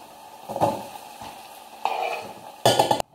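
Garlic and onion fry in a pan for mapo tofu, with a soft sizzle under three bursts of stirring as a utensil scrapes and clatters against the pan, the last burst loudest.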